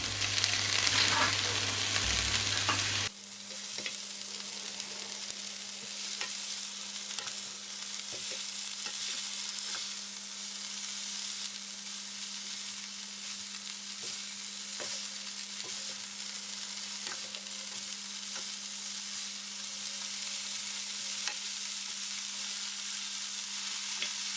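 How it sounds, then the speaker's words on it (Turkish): Chopped spinach drops into a hot pan with a burst of sizzle, then steady high-heat frying hiss continues with scattered scrapes and taps of stirring, no voices. "Artık doğradığımız ıspanağı yavaş yavaş ekleyip bir yandan da karıştıralım."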